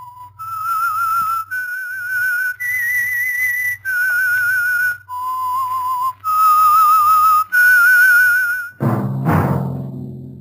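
A person whistles the signal tune of the radio show The Whistler, a clear melody of several sustained notes with short pauses between phrases, loud and alone, ending with a brief burst of orchestral music.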